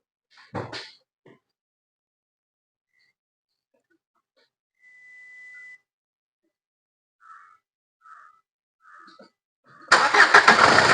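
A Nissan Terrano diesel with an overheating and coolant-leak problem: a few faint clicks and a soft tone, then the engine cranks and bursts into a loud, rough idle at the very end, with no talking.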